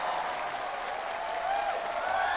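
A studio audience at a televised singing competition applauds to welcome a singer onto the stage, a steady, dense wash of clapping throughout.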